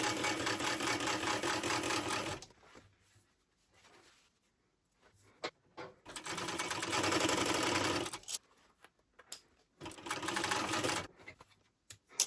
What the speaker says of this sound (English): I'm going to stitch all the way across